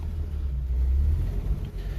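A 1950s car idles and pulls away in first gear on a warm day, a steady low engine rumble close by with slight swells as it moves off, no voices.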